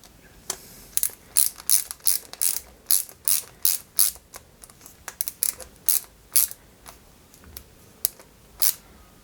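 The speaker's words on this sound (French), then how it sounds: "On y met pareil une vis." A screw driven into a part of a 1/8-scale Red Bull RB19 model kit, with a rapid series of crisp, close ratcheting clicks in quick bursts from a screwdriver and no talking.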